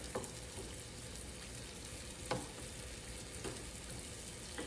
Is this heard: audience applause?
no